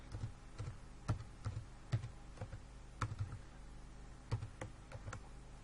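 A password being typed on a computer keyboard comes through as quiet, irregular clusters of crisp key clicks, with a few sharper taps standing out from the softer presses and no voices.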